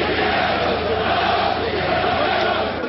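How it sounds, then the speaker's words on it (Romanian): A large crowd at a Cyprus parliamentary vote on a bank deposit tax erupts in loud, sustained cheering and roaring, a dense wall of voices that holds steady throughout without pause. "La aflarea rezultatului, mulțimea a izbucnit în urale."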